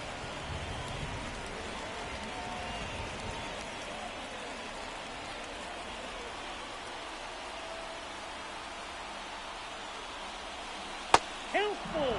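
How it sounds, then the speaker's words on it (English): Steady rain hisses over a baseball stadium in a Phillies–Nationals simulation game, a dense, even wash that holds at a constant level throughout, broken only by a sharp click near the end. "The rain's kind of let up. Just a little bit. Still coming down, though."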